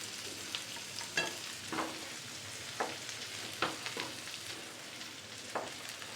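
Bread and semolina toast frying in butter on a pan, a quiet steady sizzle broken by several soft scraping and tapping clicks from a spatula, with no talking.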